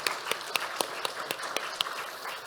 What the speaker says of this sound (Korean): 다시 한번 박수 한번 칩시다.